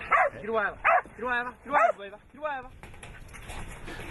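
A working dog gives about five quick, high-pitched yelping barks in a rapid series, then only faint outdoor background noise remains.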